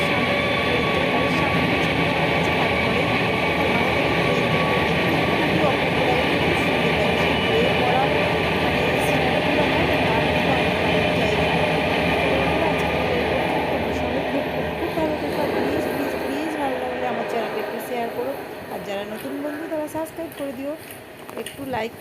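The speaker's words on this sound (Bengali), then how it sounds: "ওই যে ট্রেন যাচ্ছে তোমরা আওয়াজ পাচ্ছ" A passing train makes a steady, loud broadband rumble and roar that fills most of the stretch, then gradually fades and thins out toward the end.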